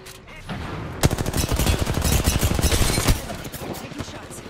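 Rapid bursts of gunfire from the video game Apex Legends rattle for about two seconds, loud and dense, with a sharp lead shot and scattered reports trailing off after.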